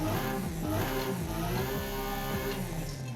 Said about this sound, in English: we got a street exhaust, man, because it just sounds the best.